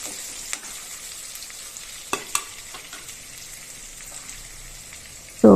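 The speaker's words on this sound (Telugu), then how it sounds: "ఆనియన్స్, పచ్చిమిర్చి, కరివేపాకు వేసాను. సో కాసేపు ఇవి తిప్పి ఫ్రై అవనిద్దాము." Onions, green chilies and curry leaves frying in a pan for a tomato curry, with a steady close sizzle, a few light stirring clinks and a louder clatter at the end.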